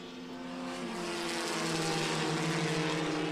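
Historic formula race cars in groups 3 and 6 at the 2014 O'Reilly Auto Parts Grand Prix, a steady, loud engine drone with rising pitch as the cars pass, growing slightly louder throughout, with no talk.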